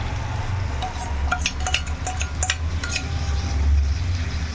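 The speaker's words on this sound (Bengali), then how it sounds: "এখন এই মশলাটা এর সঙ্গে দিয়ে একটু হালকা করে শুধু নাড়াচাড়া করব মিনিট 2-এর মতো" A spoon scrapes and clinks against a pan while ground spice paste is stirred into chicken and potatoes, with a low frying bed underneath and several sharp metallic taps in the middle.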